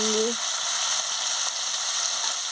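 Potatoes and beans frying in a pan with turmeric and salt, a steady broad hiss of sizzling oil throughout, close and fairly loud, with a brief stir near the start.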